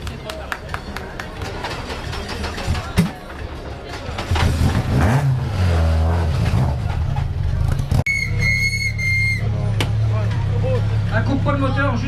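A rally car engine revs hard and close, rising and falling in pitch, then settles into a steady idle while people talk nearby at a rally podium ceremony.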